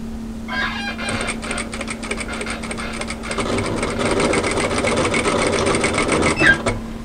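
A sewing machine runs steadily, stitching gentle gathers into a peplum camisole top; a close, continuous whirring motor with a fine rapid needle patter and a low steady hum underneath, briefly pausing and restarting near the end.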